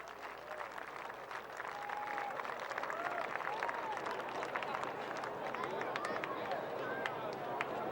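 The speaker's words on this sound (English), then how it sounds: "Nice round of applause for all of them." Outdoor grandstand crowd at a USAC/CRA sprint car race in Ventura, California gives a steady round of applause, dense clapping at a distance with scattered cheers and background chatter.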